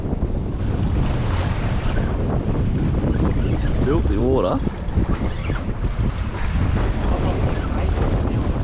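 Strong wind roars continuously across the microphone on a fishing boat at sea off the Pilbara, with waves and hull noise underneath and a brief spoken remark partway through.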